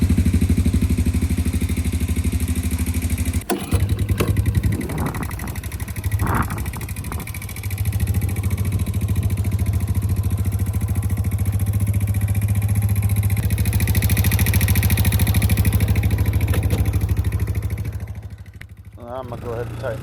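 A Honda TRX90 ATV engine idles after a fresh oil change and tune-up, running close and steady with a rapid mechanical clatter, briefly revving, then fading near the end.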